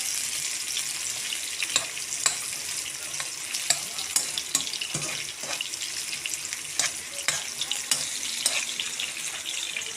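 Tomatoes sautéing in a pan give a steady, moderately loud sizzle with scattered crackles and pops throughout, alone with no voices.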